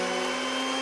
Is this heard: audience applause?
no